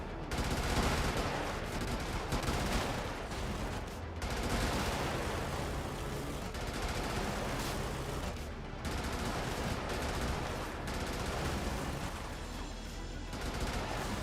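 Heavy, continuous gunfire and explosions fill a dense, loud battle mix in the mech combat game Brigador, with barely any pause over the whole stretch.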